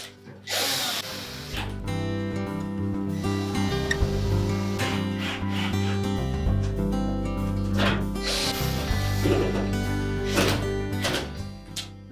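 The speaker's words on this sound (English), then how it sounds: "And then we'll reinstall the retaining screws." Power screwdriver driving retaining screws back into a Whirlpool range, close whirring bursts with ratcheting clicks repeated over several seconds, under a steady mechanical hum.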